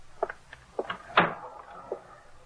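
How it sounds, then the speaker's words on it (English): A door shuts with a single firm thud near the middle, preceded by a few light wooden knocks and shuffles, and followed by a faint knock; indoors, no voices. "Shut the door."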